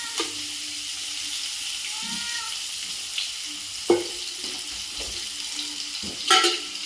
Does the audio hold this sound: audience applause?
no